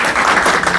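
A brief burst of clapping from an audience at a mentoring event, quick and dense, heard close for under a second with no voices.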